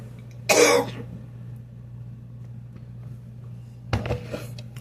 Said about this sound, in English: candles making me cough